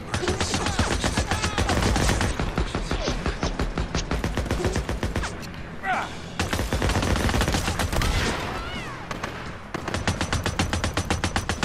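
Rapid PDW gunfire rattles almost nonstop in the video game Days Gone, dense, loud bursts broken by a brief lull and a grenade blast before the shooting resumes.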